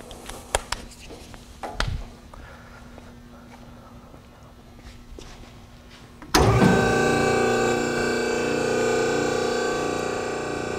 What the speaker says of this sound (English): Our unit's powered by a hydraulic pump motor, and it fills an accumulator up to 2400 PSI.